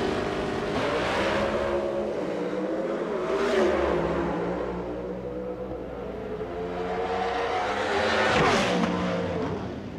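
Pro Stock drag cars in the racing game Drag Racing '99 roar and rev continuously, engine pitch climbing and shifting through gears in waves, loud and close without talk.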